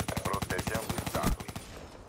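Rapid bursts of video game gunfire in Black Ops 3 crackle in quick, regular succession, sounding like a fast automatic weapon, then stop abruptly.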